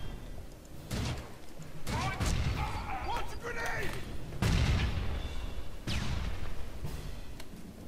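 A smart rifle fires in the Aliens: Colonial Marines video game, heavy booming bursts repeating every second or so over a continuous rumble of gunfire.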